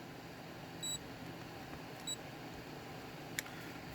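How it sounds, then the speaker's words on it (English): Two short, faint high-pitched beeps from a multimeter on its continuity setting during a check of an RGB LED strip, spaced about a second apart over a quiet hiss, followed by a small tick. "So I'm just going to use the continuity setting just to see if anything's are touching each other."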